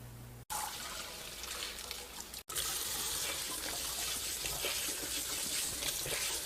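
Boiled somen noodles rubbed and rinsed by hand in cold water in a kitchen sink, a steady close splashing and running-water rush that begins after a brief gap and carries on unbroken.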